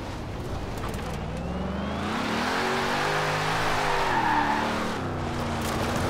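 A car drifting in Forza Horizon 4, its engine revving and rising in pitch while the tires squeal and skid, loud and continuous for several seconds.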